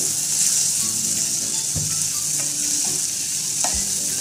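Finely chopped onion fries in oil with cumin and cardamom, a steady close sizzle broken by a few scraping stirs of the spoon.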